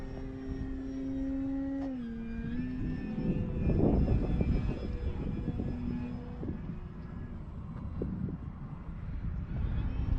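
An FMS Pitts 1400mm RC model airplane engine drones steadily with a rising and falling pitch as it flies past over grass, loud and continuous with some wind buffeting.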